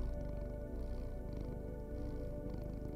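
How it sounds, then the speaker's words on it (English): A cat purring as it is petted in the cyberpunk video game Loopmancer, a low continuous rumbling purr with a soft pulsing rhythm, close and steady. "Pet the cat."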